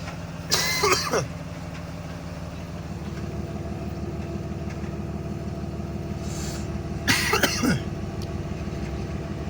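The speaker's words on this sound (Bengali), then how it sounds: "কাশি হয়ে গেল।" Two distinct coughs, one early and one near the end, over the low steady idling of an engine nearby.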